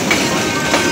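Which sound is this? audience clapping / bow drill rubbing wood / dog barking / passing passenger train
passing passenger train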